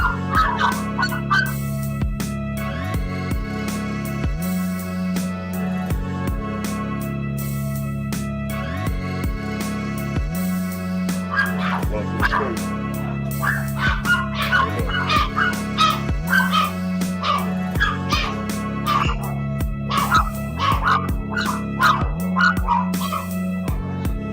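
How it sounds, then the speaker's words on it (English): Dogs barking in short repeated bursts indoors, fairly close and loud, with a steady low hum and harmonic tones running underneath throughout. "I had to shut them damn dogs up"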